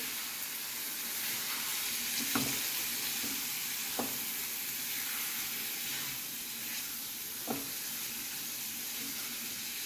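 Tiny prawns (karandi) and potato frying in a pan for a Goan Saraswat dish, giving a steady close sizzle with a few brief scraping stirs throughout.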